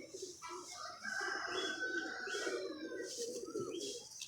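A female pigeon coos softly in repeated low, throaty phrases, faint and somewhat distant, alongside higher chirps from other birds.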